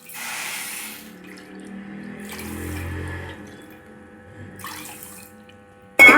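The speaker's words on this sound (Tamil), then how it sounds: "இதுக்கு 1/2 கப்பு நம்ம தண்ணி ஊற்றிக்கலாங்க." Half a cup of water poured into a pan of sugar for syrup, a steady splashing pour that comes in a couple of bursts with quieter gaps, close and moderately loud, with no talking.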